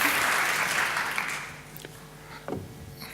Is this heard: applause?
yes